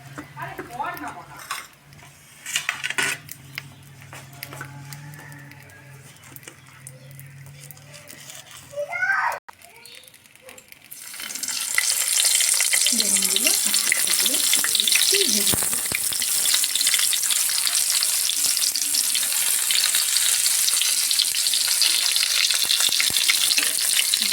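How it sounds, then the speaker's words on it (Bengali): Eggplant pieces rubbed with salt and turmeric fry in white oil in a hot wok. Quiet clatter and brief voices come first, then loud, steady sizzling starts about halfway and continues without a break. "কড়াইটা গরম হয়ে গেছে আমি একটু সাদা তেল দিয়ে দিচ্ছি আর বেগুনটা ভেজে নেবো"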